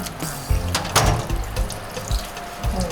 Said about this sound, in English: We are washing the fish.